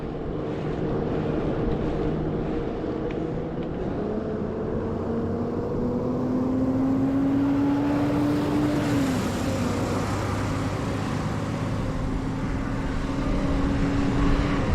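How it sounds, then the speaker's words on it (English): A fairly wide truck overtakes a gravel e-bike from behind on a two-lane road. A rising engine drone builds and holds under constant rushing wind noise, with a tonal whine sliding upward as the truck passes close. "I have a truck coming up from behind, and he's fairly wide"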